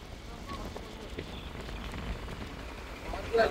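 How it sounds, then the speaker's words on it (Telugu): Rain falls steadily outdoors on a road while a family is caught without umbrellas, a soft, continuous patter and hiss at moderate distance, with a faint voice surfacing near the end. "ఒకటే వర్షం అన్నమాట."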